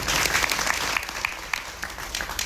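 An audience at a devotional bhajan satsang gathering in Gaglasan claps to welcome a revered Maharaj: dense, loud, rhythmic applause that holds steady and thins slightly toward the end.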